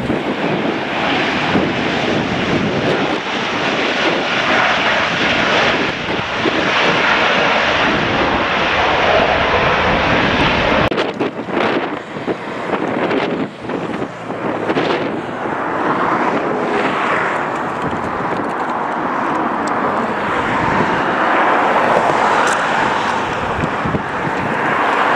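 Jets land and take off at Los Angeles International Airport's north side, a loud, continuous engine roar heard from outdoors, with gusts of wind buffeting the microphone.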